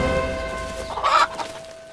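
A single rooster call, a brief clucking burst, rises near the middle against steady background noise with no talking.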